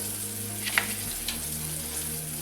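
A pork chop frying in a shallow layer of oil gives a soft, steady sizzle over a low hum, with a couple of brief clinks, heard close but quiet and without voices.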